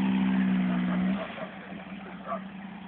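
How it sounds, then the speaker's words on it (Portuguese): A Volkswagen Beetle (Fusca) stuck in mud, its engine revving with a steady low drone that drops off after about a second, leaving a quieter idle with faint background noise. "É muita emoção, bicho, dirigir um Fusca, velho"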